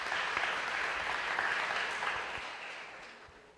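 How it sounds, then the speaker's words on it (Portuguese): A church congregation applauds steadily, a dense wash of clapping at moderate distance that holds and then slowly fades out. "Dê uma salva de palmas ao Senhor."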